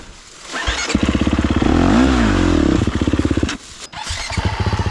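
A dirt bike engine idles and revs loudly nearby, with a rhythmic putter, a rising and falling rev in the middle, a brief cut-out and then a return to a steady idle.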